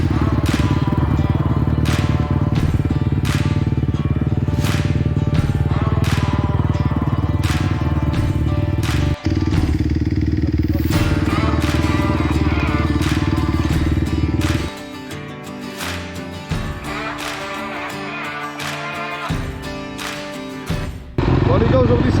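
A Honda CRF motocross motorcycle ridden in mud roars steadily and loudly, revving and straining, then drops to a rougher, uneven idle with clattering before surging again.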